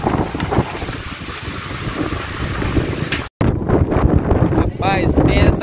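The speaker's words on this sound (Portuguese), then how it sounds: "pensa numa ventania violenta! Nós estamos aqui, catamarã!" Strong wind buffets the microphone during a catamaran ride toward the natural pools at Maragogi, a constant roaring gust over engine and water noise, broken by one brief dropout.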